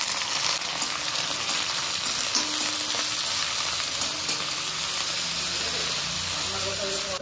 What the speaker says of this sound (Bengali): এই যে কুচো চিংড়ি দিয়ে দিচ্ছি।